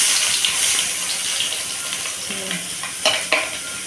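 Tomato and onion chutney sizzles in a pan as a spoon stirs through it, a steady frying hiss with a couple of sharper scrapes near the end, no talking.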